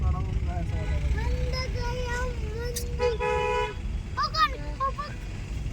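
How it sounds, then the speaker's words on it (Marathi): Car horns toot repeatedly in a traffic jam caused by a broken-down state transport (ST) bus, with several short and sustained honks over a steady road rumble while people talk nearby. "एस टीमुळं झालेलं सर्व ट्रॅफिक जाम"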